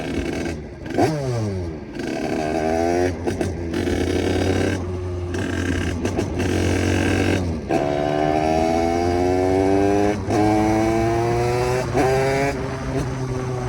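A small two-stroke moped engine, running rich, revs up and down repeatedly, rising and falling in pitch, buzzy and a bit uneven, loud and close throughout.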